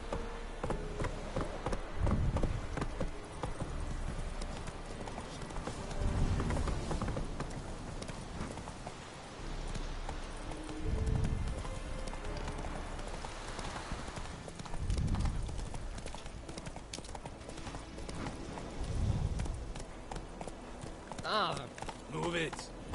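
The horse Roach gallops in The Witcher 3 with steady clip-clop hoofbeats surging in rhythmic waves, heard under intermittent spoken dialogue.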